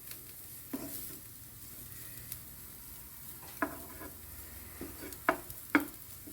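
Spices and torn curry leaves fry in a pan for a jackfruit cutlet mixture, a faint low sizzle with a few sharp spoon clicks and scrapes toward the end, close but quiet, no talking.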